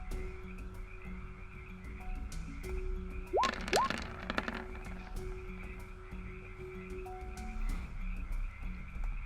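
Frogs croak repeatedly during a jungle-themed tabletop RPG session, with a couple of rising calls and a cluster of loud, raspy croaks in the middle over a steady background of pulsing chirps and hum, with no talking.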